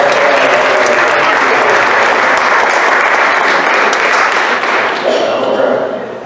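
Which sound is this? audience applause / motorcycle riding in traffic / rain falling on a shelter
audience applause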